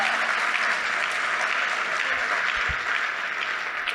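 Loud, sustained applause from a church congregation during a sermon, a dense and steady roar of many hands clapping together that holds for the full stretch without any talking over it.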